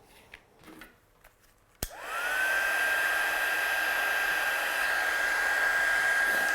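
A hair dryer blasting ink dry on a card, clicking on after a few faint handling taps and then running as a steady, loud whine with no talk over it.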